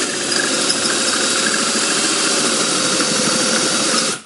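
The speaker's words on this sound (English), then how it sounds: "now that we have our pilot hole drilled, we put our bit in there. And we start slowly and then speed up." A power drill bores a hole for an aquarium pump upgrade, a loud, steady grinding whir that holds at full speed throughout and cuts off abruptly at the end, with no voices.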